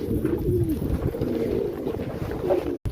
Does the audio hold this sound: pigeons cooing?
yes